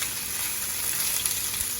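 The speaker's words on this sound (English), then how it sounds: "I added some more oil and I'm just gonna throw in all my veggies" Peppers and onions sizzle in hot oil, a steady close frying hiss with faint stirring clicks and no talking.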